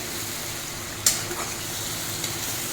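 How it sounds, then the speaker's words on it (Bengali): Crushed ginger and garlic frying with onions in a pan for a fish-head curry, a steady soft sizzle with a couple of brief clinks or stirs, no talking. "এটাকেও আমি পেঁয়াজের সঙ্গে ভাজতে থাকবো"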